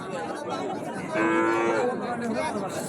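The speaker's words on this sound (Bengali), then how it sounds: "পাশে জোড়া জোড়া গরু আছে" A cow lets out a single drawn-out moo against a busy background of murmuring voices and outdoor bustle at a cattle market selling Sahiwal calves and bulls.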